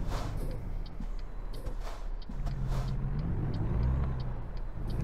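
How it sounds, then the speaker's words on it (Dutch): A truck engine rumbles in American Truck Simulator, a steady low drone that swells as a heavier vehicle draws nearer, with faint hissing bursts above it. "Er komt wel een vrachtwagen aan"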